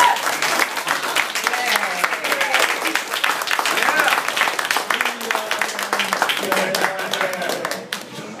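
A crowd gives sustained applause to a vice chair at a live event, a thick, even wash of clapping with voices murmuring underneath, tapering off near the end.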